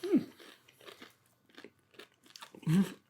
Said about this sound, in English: It's so crunchy.